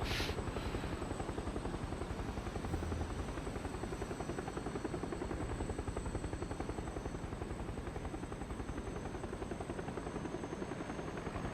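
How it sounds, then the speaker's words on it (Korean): Supply drop airplane in PUBG flying overhead, a steady loud droning engine roar that holds evenly throughout with little change. "비행기 뭐야?"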